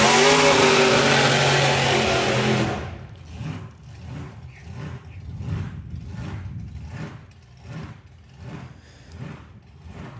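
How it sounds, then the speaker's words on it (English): Loud engine roar cuts off abruptly, then a drag racing car engine burbles and hunts in rhythmic pulses, revving unevenly at a distance while moving onto the start line at a drag racing event. "So Leo revving his way around onto the start line."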